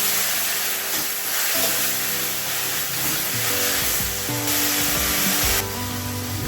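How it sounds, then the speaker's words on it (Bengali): Boiled, drained jute greens (pat shak) fry with dried red chillies in hot oil, producing a loud, continuous, broad sizzling hiss that surges and eases as the pan is worked. "এখন পাট শাকটাকে শুকনো লঙ্কা তেলের সাথে ভালো করে ভেজে দেবো।"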